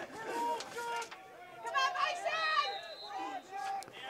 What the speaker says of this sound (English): It's a good crowd out here today.